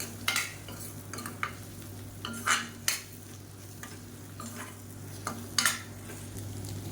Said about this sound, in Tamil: இப்போ இந்த முட்டையை வந்து நல்லா ஸ்க்ரம்பிள் பண்ணிக்கலாம்